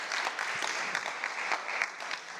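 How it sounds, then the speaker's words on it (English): A conference audience claps for a panel, continuous hand-clapping with scattered individual claps standing out, moderately distant and sustained throughout. "Round of applause for our panelists."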